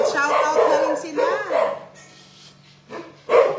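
Dogs bark and yip at a relaxed Sunday card game, short bursts under and between people talking nearby.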